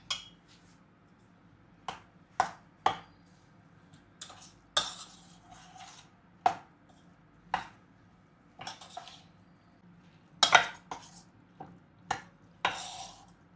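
A spoon mixes mango pickle with roasted fenugreek and mustard powder in a dish, giving quiet, intermittent clinks and scrapes in irregular strokes, with no talk.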